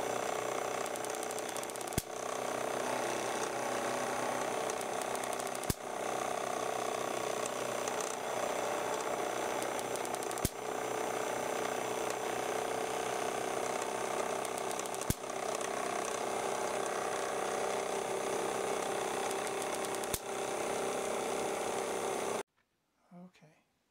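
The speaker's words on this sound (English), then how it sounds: "Here, the Van de Graaff is driving an electrostatic motor, not my design." An electrostatic motor driven by a cheap homemade Van de Graaff generator gives a continuous whirring, ratcheting drone, broken every few seconds by sharp spark snaps.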